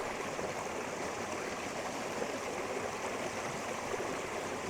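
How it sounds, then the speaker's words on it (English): Steady rushing roar of a small waterfall or rapids in a stream at Glencoe, Scotland, heard close up as a continuous broadband wash of water without any voices. "this little waterfall or rapids in the foreground"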